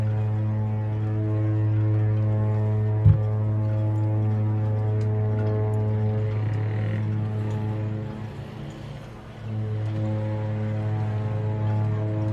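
A deep, steady horn from the cruise ship Britannia departing the Port of Southampton blasts at length, pausing briefly, then sounding again, loud and sustained with rich low harmonics.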